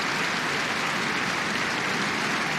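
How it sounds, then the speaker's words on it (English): A stadium crowd at the Cork v Kerry Munster football final applauds as an injured player is stretchered off, forming a dense, steady wash of clapping that sounds like rain. "a warm round of applause now for Rory Dean"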